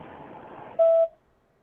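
Telephone dialing tones during a phone call that goes unanswered: a soft noisy stretch gives way to a single clear electronic tone held for about a quarter second before it cuts off into near silence.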